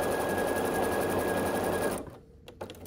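Sewing machine stitching a quilt block seam, a fast steady motor whir with rapid needle clatter running for about two seconds, then stopping abruptly, leaving faint small handling sounds.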